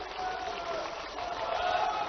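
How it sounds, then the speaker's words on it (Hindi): Crowd at an outdoor political rally in Sheopur applauding, a steady wash of dense clapping and murmur that holds at an even level throughout. "एक बार उनके लिए भी ताली बजाओ"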